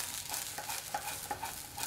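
Vegetable fried rice with spring onion leaves is tossed and stirred in a hot pan, giving a brief run of close scraping and light sizzle with soft utensil knocks and no voices.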